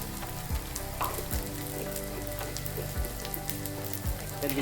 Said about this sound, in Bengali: এবার আস্তে আস্তে সুন্দর করে দেখো এরকম গোল্ডেন ব্রাউন করে ভেজে তুলে নেব